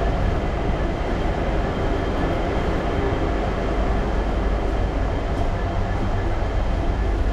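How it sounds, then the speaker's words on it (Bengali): Inside an empty, stationary passenger train headed toward Kolkata, ceiling fans whir overhead in a steady, even broadband hum that fills the carriage with no break. "আচ্ছা, এই হচ্ছে ট্রেনের ইন্টেরিয়ার। মাথার ওপর ফ্যান ঘুরছে আর ট্রেনটি একেবারে ফাঁকা গড়ের মাঠ।"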